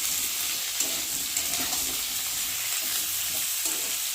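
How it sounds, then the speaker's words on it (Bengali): Vegetables with green chillies frying in a pan, a steady broadband sizzle with faint stirring scrapes running evenly throughout, close and fairly loud with no talk. "কয়েকটা কাঁচা লঙ্কা দিয়ে সবজিগুলোকে ভালো করে ভেজে নেব।"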